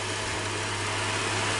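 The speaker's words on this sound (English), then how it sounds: "this engine is super smooth" A freshly installed Subaru EZ30R flat-six idles in a garage after its first start, a smooth, steady hum with a faint low throb, close by and uninterrupted.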